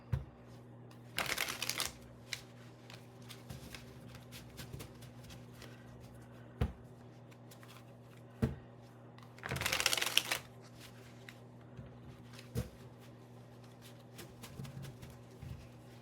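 Tarot cards being shuffled in two brisk riffle bursts, separated by quiet stretches with scattered light taps and handling noises.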